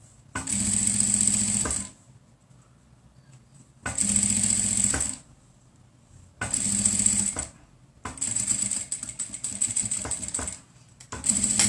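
Electric sewing machine stitching a cotton face mask, running in four bursts of rapid whirring and needle clatter, each lasting one to three seconds, separated by short quiet pauses; close and fairly loud, with no talk.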